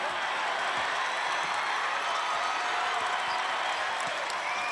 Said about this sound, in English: Crowd getting restless again.